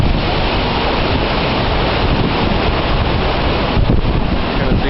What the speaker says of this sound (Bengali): নিচে পানি, খরস্রোতা পানি দেখা যাচ্ছে।